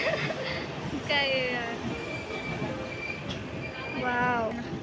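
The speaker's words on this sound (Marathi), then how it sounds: "खटारा ट्रेन आमची." An old, rickety passenger train rattles and rumbles steadily along the tracks, a close, continuous clatter heard from inside the carriage while people talk and chuckle nearby.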